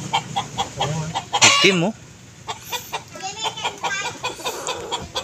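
A chicken squawks and clucks loudly up close, with a sharp burst of flapping and cackling, while a person speaks briefly over it.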